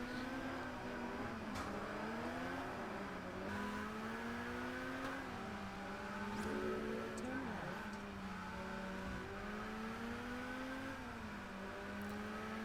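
A Lotus sports car's engine drones and revs steadily while racing in Test Drive Unlimited Platinum, its pitch rising and dipping through shifts and throttle changes in a constant, close whine.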